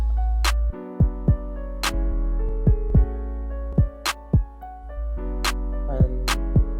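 Deep, booming 808 bass notes with boosted mids play in a sparse pattern in FL Studio, accented by sharp percussive hits.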